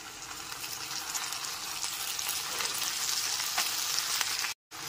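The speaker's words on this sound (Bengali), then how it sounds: "পেঁয়াজ আদা রসুন বাটা এখানে খুব ভালো মতো ভাজা হয়ে গেছে" Onion, ginger and garlic paste fries with dark soy sauce in a pan, giving a steady hissing sizzle that holds evenly and fairly close, then cuts off abruptly near the end.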